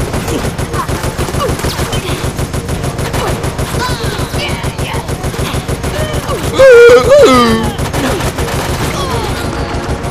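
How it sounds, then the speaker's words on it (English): Gunfire crackles steadily in Resident Evil: Operation Raccoon City as characters shoot a zombie, rapid dense bursts running throughout, with a voice shouting briefly over the shooting. "they were shooting that zombie"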